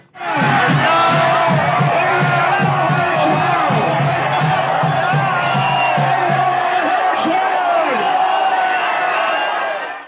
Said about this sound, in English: Iranian state media broadcast cheers from the crowd in Tehran.